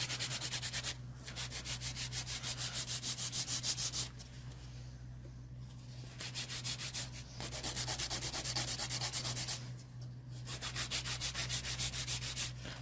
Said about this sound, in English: So right now I'm using a 150 grit file, not too coarse.